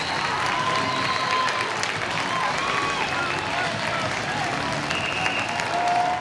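Ice hockey crowd at a pre-season game between Sheffield Steelers and Leksands IF, a steady, loud wash of applause and cheering filling the arena throughout, with whistles and shouts rising out of the roar.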